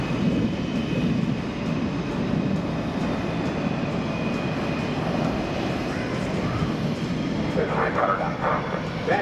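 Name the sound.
F/A-18F Super Hornet jet high-speed pass at airshow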